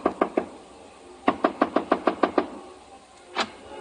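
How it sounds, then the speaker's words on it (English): Knuckles rapping on a hotel room door in a 1951 radio drama: a quick burst of three knocks, a pause, then a longer run of about eight evenly spaced knocks, followed by one last knock. "I stopped in front of room 300 and knocked."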